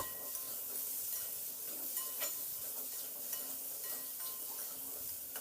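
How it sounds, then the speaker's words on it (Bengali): Potato pieces seasoned with salt and turmeric fry in a pan, a soft, steady sizzle broken by repeated scraping and clinking strokes as they are stirred, fairly close and without talk. "মিনিট দু তিনেক মতো নাড়াচাড়া করে আলুটাকে একটু ভেজে নেব"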